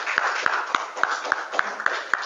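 A classroom group claps in a quick, even rhythm of roughly eight distinct beats over a continuous bed of background voices.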